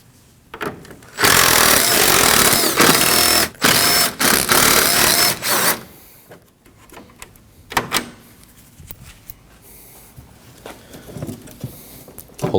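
Power tool removing 10mm bolts from a Ford Edge front bumper, a loud buzzing whir in several bursts over a few seconds, then quieter clicks and rattles of handling.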